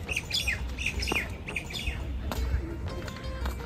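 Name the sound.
birds calling in hospital garden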